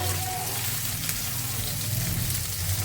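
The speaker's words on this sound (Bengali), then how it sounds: "ভেজে নিচ্ছি এজন্য মাছটা ভালো করে খুবই সুন্দর করে মশমশা করে ভেজে নিতে হবে" Fish frying in hot oil until crispy, cooked with potato, eggplant and cauliflower for a home-style curry; a steady, dense sizzle holds at an even level throughout, with a low hum beneath.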